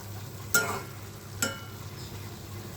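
Tela kuchi (ivy gourd) leaf greens being stirred in a pan, with two distinct scraping strokes over a soft, continuous sizzle.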